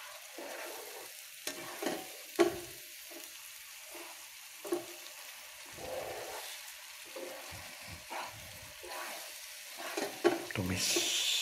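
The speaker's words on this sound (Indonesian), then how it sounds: "saya tumis dulu supaya matang." Blended shallot and garlic paste sautéing in a pan for goat bone soup, heard as a soft, steady sizzle with intermittent stirring scrapes and light clatter, fairly quiet.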